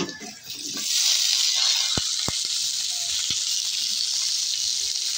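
Okra, garlic and onion hit hot oil in a pan and fry with a loud, steady sizzle, broken by a few sharp clinks of a utensil against the pan.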